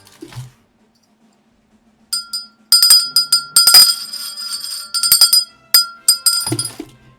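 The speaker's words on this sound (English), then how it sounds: "Ring the horse bell." The horse bell rings in Dragon Quest 11 as a string of bright, metallic dings and chimes in rapid, uneven bursts, clear and close, with a brief soft sound before and after.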